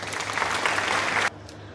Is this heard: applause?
yes